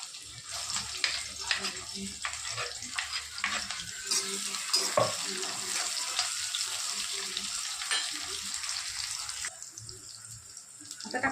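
Chopped ingredients tipped into four ladles of hot oil for a jowar-flour vegetable dish set off a steady, close sizzle, with stirring scrapes running through and no talk.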